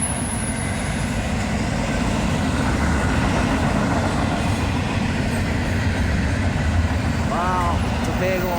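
A BNSF freight train rolls past at night in La Crosse, Wisconsin, a loud, continuous rumble of wheels and cars close by with wheel squeal near the end and voices talking under it.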